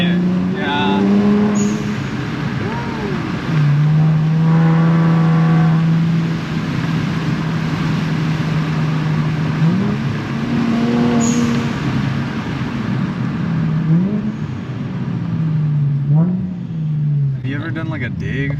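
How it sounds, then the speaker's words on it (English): A 2018 Infiniti Q60 3.0T accelerating through the gears, its exhaust droning loud and raspy inside the cabin with rising and falling engine pitch across shifts, while people talk over it throughout. "when I was in second gear going into third, it gets really raspy"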